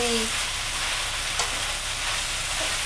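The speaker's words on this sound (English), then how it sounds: "Just toss it all together." Orecchiette, broccoli and Italian sausage sizzle and fry steadily in a pan as they are tossed together, a dense continuous crackle close up with a faint scrape, no talking.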